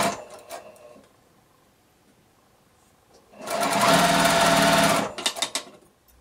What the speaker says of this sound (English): I can go ahead and sew one of the half square triangles to the side of it